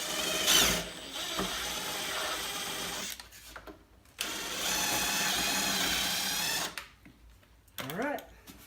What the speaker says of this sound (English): get these nuts off here and leave the rubber washers on